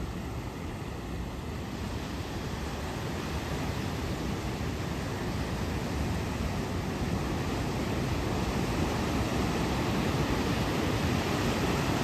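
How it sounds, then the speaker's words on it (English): Ocean waves break continuously onto Poldhu Beach in Cornwall, a steady, loud wash of surf with wind rushing across the microphone and no talking. "look at the size of those waves coming in"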